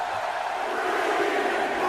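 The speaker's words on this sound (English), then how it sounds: "The home crowd behind Okada" Arena crowd roar in the WWE 2K18 wrestling video game during a Japan supershow match, a dense sustained cheer with voices blended into a wide wash, steady and fairly loud throughout.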